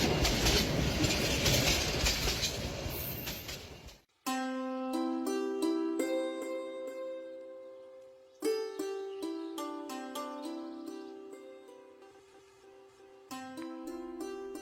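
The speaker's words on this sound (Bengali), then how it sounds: "বুলেটের গতিতে ট্রেন চলায় দুপুর 3টার মধ্যে চণ্ডীপুর স্টেশনে পৌঁছে গেলাম।" A train running at bullet-like speed in an animated horror cartoon gives a dense, steady roar for about four seconds, then cuts off abruptly into tinkling music with repeated notes.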